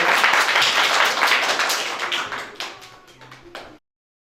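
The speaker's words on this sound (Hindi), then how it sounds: "एक बार जोरदार तालियां दीजिए।" Audience applause at a theatre workshop event in India, a dense burst of many hands clapping close and loud, tapering slightly over about four seconds before stopping abruptly.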